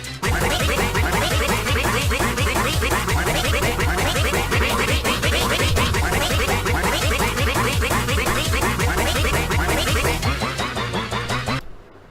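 A duck-quack sound-effect meme plays as a loud, dense cacophony of many overlapping quacks blaring nonstop for about eleven seconds, then cuts off abruptly.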